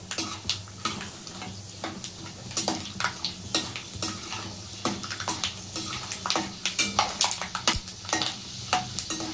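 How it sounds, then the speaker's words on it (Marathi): Peanuts roasting in hot oil in a pan for Maharashtrian kanda poha, a steady close sizzle broken by frequent stirring scrapes and clinks, with no talking. "सर्वात प्रथम आपण शेंगदाणे तेलामध्ये चांगले परतून घ्यायचे आहे"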